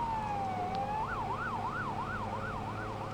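A police car siren wails in a rapid rising-and-falling yelp, loud and steady throughout, heard from inside a moving BMW E46 with engine and road noise underneath.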